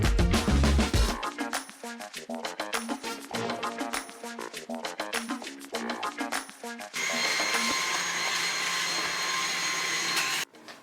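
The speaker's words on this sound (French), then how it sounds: "j'y ai pensé là en passant l'aspirateur dans cette zone que je viens de ranger" A vacuum cleaner works over a linoleum floor in a cluttered room, first knocking and rattling in rapid bursts as it bumps along, then settling into a steady loud whine for several seconds before switching off.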